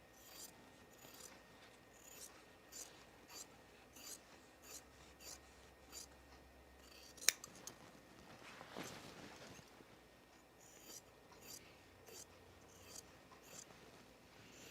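Scissors snip repeatedly through fabric while a Mercer top is trimmed for sewing, the soft rasping cuts coming in a steady rhythm, quiet and close, with no talking.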